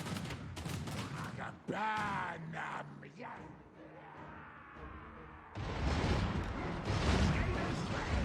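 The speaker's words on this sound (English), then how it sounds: "And with all of the weapon teams firing now." Weapon teams firing in the Total War: Warhammer 2 video game, with dense bursts of gunfire and crackling volleys that swell into a loud roar, mixed with yells and battle noise.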